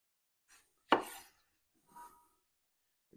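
Vegetables being chopped on a cutting board for a homemade breakfast burrito: a few isolated knife strikes, one sharp and loud, with quiet pauses between.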